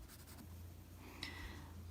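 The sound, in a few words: pencil shading on paper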